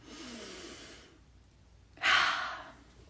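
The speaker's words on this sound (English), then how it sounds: "Let's take one more deep breath in." A slow, deep inhalation is drawn during a guided breathing exercise, followed after a short pause by a louder breathy exhale, both close and soft with no talking.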